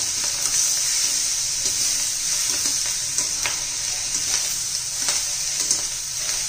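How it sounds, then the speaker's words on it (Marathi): Chili, turmeric and coriander powder frying in oil for a bean vegetable dish, giving a loud, steady close sizzle with soft scraping stirs running through it and no voices. "थोडीशी मिरची पावडर, हळद पावडर, धना पावडर, हे पण आपण तेलात चांगला असं परतून घेऊया"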